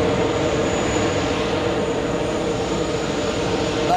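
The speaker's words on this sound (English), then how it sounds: "Another Delta, 767-300 on the parallel runway. Wow, you can hear that." A Delta Boeing 767-300 jet rolls along a parallel runway at JFK Airport, producing a steady, loud engine roar with broadband rushing noise and a constant tone that holds for the whole stretch.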